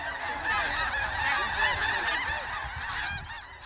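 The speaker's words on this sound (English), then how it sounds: "the squawking grows louder, and without warning, the geese take flight and circle above the crowd below." A large flock of geese honks continuously, a dense overlapping chorus of squawks close by that swells and then thins slightly as the birds lift off into flight at a crane festival.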